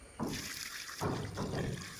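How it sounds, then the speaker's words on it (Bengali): Water poured onto a newly planted garden flower plant gives a faint outdoor splashing pour in two bursts, quiet and brief. "পানি দিয়ে দিতে হবে"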